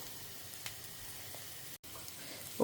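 Onions and green chillies sauté quietly in a pan, a soft steady sizzle with a brief gap and a small clatter near the end, no talking.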